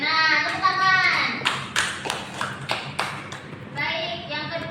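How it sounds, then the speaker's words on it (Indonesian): A class of primary-school students claps hands during a science lesson, bursts of sharp applause mixed with quick separate claps and children's voices chattering over them. "Tepuk tangan."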